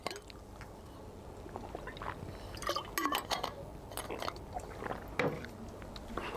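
Water poured and handled during a physics lecture: splashy liquid sloshing, small clinks of a bottle or glass, and light knocks, close and fairly quiet, without speech.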